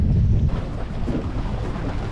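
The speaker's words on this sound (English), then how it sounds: "Windy." Strong wind on a fishing boat out on the water, a loud rushing buffet against the microphone with a heavy gust at the start that settles into a steady roar.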